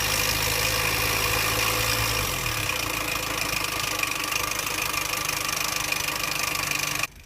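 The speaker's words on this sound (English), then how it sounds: "This car has a loud noise coming from the front of the motor." Loud, steady engine noise from the front of a 2007 Mini Cooper convertible motor with a stuck timing chain tensioner, running continuously up close before cutting off abruptly at the end.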